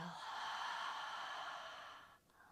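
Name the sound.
deep exhale during yoga breathing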